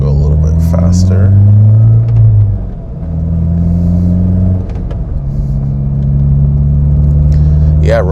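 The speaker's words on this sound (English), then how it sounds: "Yeah, road noise is actually not too bad. You can hear it a little bit." Tire and road noise from a 16-year-old Honda fitted with performance tires rumbles low and steady inside the cabin, dipping briefly twice, while the driver talks over it.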